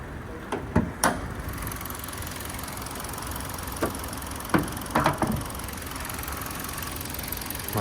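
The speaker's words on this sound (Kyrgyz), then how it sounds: "Моторун мындай үнү жакшы эле иштешичи." A car engine idles steadily under the open hood after its grille has been replaced, a continuous low hum with a few brief clicks and knocks scattered through it, nearby and moderately quiet.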